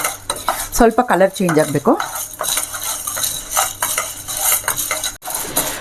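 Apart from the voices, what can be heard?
dry roasting lentils in a pan, stirring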